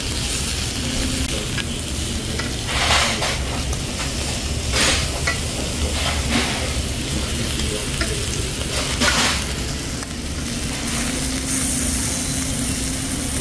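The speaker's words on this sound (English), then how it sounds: "The turtle shell is cooking the meat. So the oil flows down to the tail over here." Meat fries on a turtle-shell grill pan over a fire in Korea, a loud steady sizzle and crackle running throughout with occasional stronger spatters and a low background hum.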